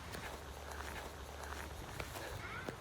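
Footsteps on the walking path up to Phraya Nakhon Cave, soft steady treads that are faint under a constant wash of outdoor noise, with a couple of slightly sharper steps near the end.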